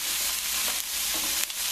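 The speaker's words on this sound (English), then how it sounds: "saute" Vegetables sauté in a pot for shrimp and corn chowder, a steady close sizzle and hiss with faint stirring, alone without speech.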